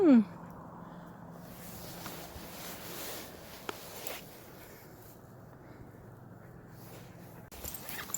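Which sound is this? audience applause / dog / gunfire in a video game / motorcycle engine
dog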